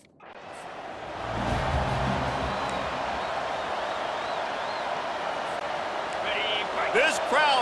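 A roaring stadium crowd in a college football video game, Florida Gators against Ole Miss Rebels, a loud steady wash of crowd noise that swells after the first second, with a commentator talking over it.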